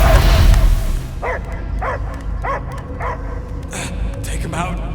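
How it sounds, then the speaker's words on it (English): A dog in the Guardians of the Galaxy video game barks in a series of sharp, evenly spaced yips and whimpers, close and loud, following a burst of noise at the start. "I hear only barking."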